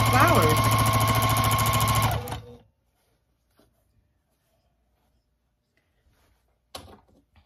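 A sewing machine stitches flower shapes onto a baby quilt, running in a steady, close whir for about two seconds before stopping, followed by near silence with a few faint handling taps.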